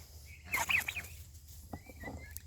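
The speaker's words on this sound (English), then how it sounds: "Silly turkeys." Turkeys on a small homestead give a quick burst of gobbling and clucking calls up close, followed by softer scattered peeps over quiet background.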